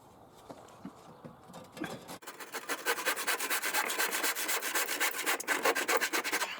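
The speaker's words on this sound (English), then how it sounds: "I'm going old school, handsaw, coping saw." A coping saw cuts through wood by hand in quick rhythmic strokes, close and fairly loud, after a few softer scrapes, with no talking.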